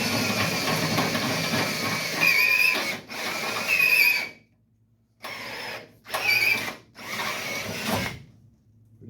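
A drill with a freshly sharpened bit whirs in five short, close bursts, each rising to a high whine and then stopping, with silent gaps between them.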